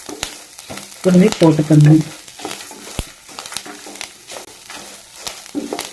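Curry leaves fry and crackle in hot oil for a ridge gourd curry, a steady sizzle with sharp pops near the start and a short spoken phrase over it.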